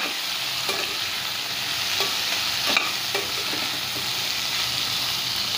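Raw mango pieces stirred in a frying pan for sweet-sour mango chutney, a steady sizzle with soft scraping strokes and a few light clicks of the spoon against the pan, close and continuous with no talking.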